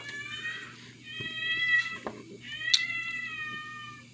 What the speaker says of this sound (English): Now my cat's hollering at me.